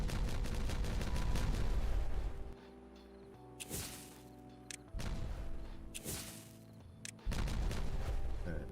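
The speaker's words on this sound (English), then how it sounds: "Alright, detonate." Explosive detonations in the beaver city-building game Timberborn, several heavy booming blasts with rumbling tails spaced a few seconds apart, loud and alone with no talking.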